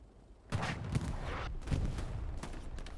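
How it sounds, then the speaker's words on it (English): A Panzer IV tank firing and knocking out a Stuart tank in a World War II video game: a sharp cannon report followed by further blasts and rumbling impacts, loud and near, no voices. "Panzer IV just rolled up and took out the Stuart."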